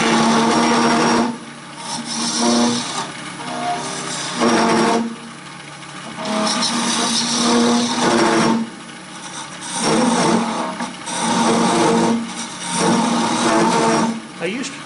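A wood lathe turning a wooden Christmas tree, with the end of the piece being flattened. A loud motor whir comes and goes in bursts as the cut is made, and a voice talks in the pauses.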